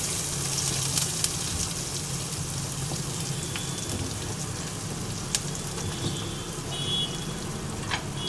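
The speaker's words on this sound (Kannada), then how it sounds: "ಇದನ್ನೆಲ್ಲ ಚೆನ್ನಾಗಿ ಫ್ರೈ ಮಾಡ್ಕೊಳ್ಳೋಣ." Two finely chopped onions fry in a pan for a Karnataka-style dill leaves dal sambar, giving a steady, even sizzle like light rain, with a few faint clicks and no talking.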